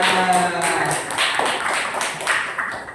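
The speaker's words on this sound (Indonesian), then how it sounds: "Tepuk tangan untuk kita semua" Scattered clapping from a group of students in an Islamic religious education classroom, a few seconds of light, uneven claps with no voices over them.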